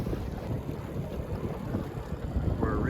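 Strong wind buffets the microphone on a lake while boating, a steady roar with water and hull noise underneath and a brief higher sound near the end.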